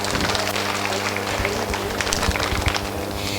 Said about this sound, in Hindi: एक बार तालियां बजाएं श्वेता के लिए